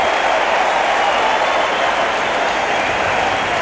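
A roaring cricket crowd at the Sydney Cricket Ground, Australia versus Pakistan, cheers as a Pakistani batsman is bowled; a dense, steady wash of applause and shouting fills the whole stretch without letting up.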